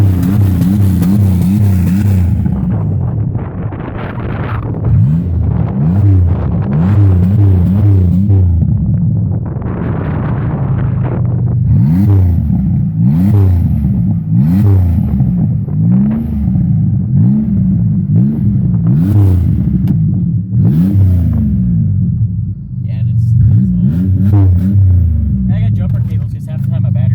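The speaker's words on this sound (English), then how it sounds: "give it a good rev so we can hear it." A 2003 Buick with an open exhaust, its bolts snapped off, revs repeatedly in loud rising and falling bursts with a deep rumbling idle between them, and people talk over it outdoors.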